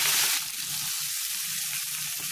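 Vegetables and pumpkin leaves go into hot mustard oil with jakhiya seeds, producing a bright burst of sizzle that settles into a steady crackling fry close by.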